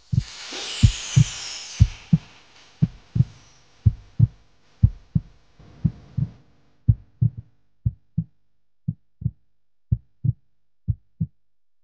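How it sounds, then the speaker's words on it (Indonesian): Heartbeat sound effect in a drama, a steady run of deep thumping double beats, loud and close at first, then continuing alone and slightly slower over a faint high wash that dies away. "jantung aku teh jadi deg-degan kieu"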